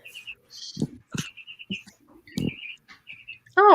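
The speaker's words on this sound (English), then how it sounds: "I hear birds." Birds chirp outside at dawn in short, scattered tweets and trills, fairly faint and distant. A few low thumps mix in, and a brief louder warbling call comes at the end.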